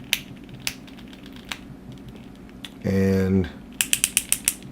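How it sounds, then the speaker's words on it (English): Ratchet joints on a Play Arts Kai Arkham City Robin action figure, clicking softly and sparsely as a limb is moved, then a quick close run of about six crisp clicks after a brief voiced sound. "they install these new clicky joints, these ratchet joints"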